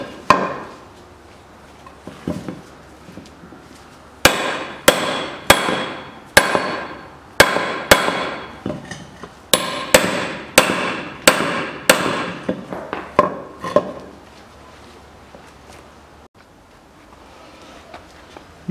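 Repeated hammer blows drive out a front lower control arm silent block on a Toyota Noah with a 3S-FE engine: sharp metallic strikes in quick runs, loud and close, with brief pauses between bursts.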